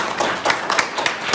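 Audience clapping at a prize ceremony for the Sharda competition, a short burst of hand claps with a few sharper accents over a steady patter, moderately loud and without talk.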